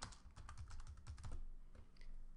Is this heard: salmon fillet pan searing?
no